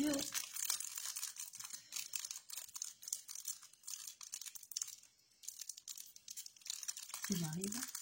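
Crinkling and tearing of plastic packaging as a set of small Monster energy drink charms is opened by hand, close up, with a brief voice near the end.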